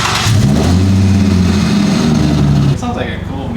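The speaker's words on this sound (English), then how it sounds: "It sounds like a cool, mean engine." A drift car with a blown engine revs hard inside a smoky garage, loud rising and falling engine tones for several seconds before cutting off, close and dominant.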